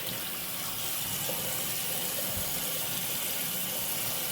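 Warm water runs steadily from a tap into a sink while a doll's hair is washed during a spa-style doll hair treatment, a continuous close hiss and splash with no talking.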